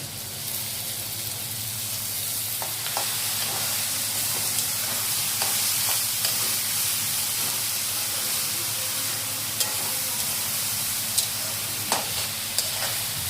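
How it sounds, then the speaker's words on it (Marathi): Onion and small river prawns sautéing in a pan give off a loud, steady frying hiss throughout, with a few sharp light ticks and spatters popping through near the end. "आणखी थोडासा या झिंग्याबरोबर परतून घ्यायचं आपल्याला।"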